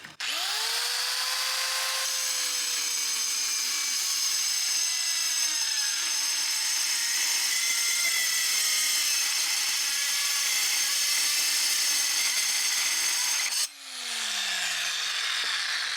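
Cheap mini circular saw cutting, a close, loud high-pitched whine that spins up, drops in pitch under load and holds steady before winding down sharply near the end.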